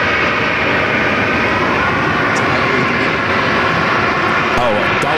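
A United Boeing 737-800 arriving at Phoenix from Washington Dulles produces a loud, continuous engine roar that stays steady from start to end.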